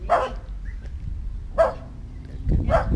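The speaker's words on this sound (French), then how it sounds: "Alors les chiens sont toujours là." Dogs barking near a vegetable garden, three separate bursts of barking spread out with quiet gaps between them, moderately close.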